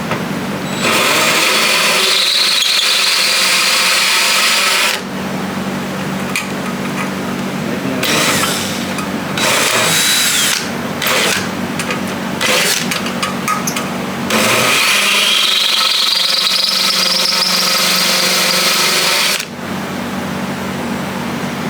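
A power tool cuts into metal where a hidden tack weld holds the parts, whining loudly in two long passes with a short broken stretch of bursts between them, no talk over it.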